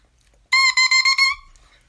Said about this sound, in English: you blow into this reed, and it'll sound like this by itself.